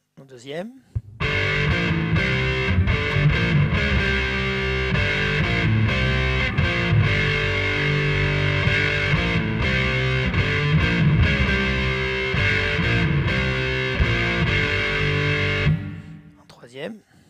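Lead electric guitar with heavy distortion from an ADA MP2 tube preamp, a loud, saturated run of notes and sustained tones lasting about fifteen seconds, fading at the end.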